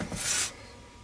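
A single short rasping rub of sandpaper on body filler on a car dash, close and brief, then quiet.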